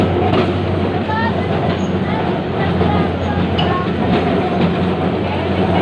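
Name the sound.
Kolkata tram rattling along rails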